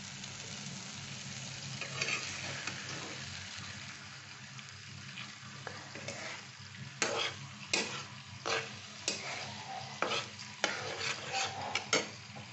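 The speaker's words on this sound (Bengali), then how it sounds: "সেটা ঢেলে এখন আমি এটা একটু মেশাবো, একটু আঁচটা বাড়িয়ে দিলাম" Egg and brinjal mixture is stirred in a pan over raised heat, starting with a soft sizzle and building into a run of sharp, irregular scraping strokes close by, with no talking.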